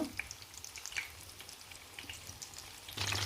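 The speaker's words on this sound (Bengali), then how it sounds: "আমি এখানে আরও কিছু স্প্রিং রোল দিয়ে দিলাম ভাজার জন্য" Spring rolls frying in hot oil, a soft steady sizzle with scattered pops and crackles that swells louder near the end, heard alone without talk.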